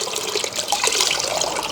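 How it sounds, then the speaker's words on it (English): A clay mitt is scrubbed against a mitt slide in a bucket of clean water, making a continuous close sloshing, splashing wash that stays fairly loud throughout, with no voices. "I'm gonna scrub it over the mitt slide in the bucket with clean water"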